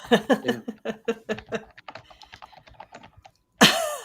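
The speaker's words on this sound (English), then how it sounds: "I hear keyboard clicking" Quick keyboard clicking, a run of light taps under a soft voice, ending with a sudden loud burst of noise.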